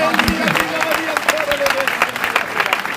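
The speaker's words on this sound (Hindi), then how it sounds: "समझ रहे तो ताली बजाकर जोरदार।" Congregation at a Christian convention gathering in Navapur clapping loudly, a dense burst of applause mixed with crowd noise and a voice speaking over part of it.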